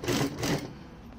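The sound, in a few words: sewing machine stitching elastic made from sock scraps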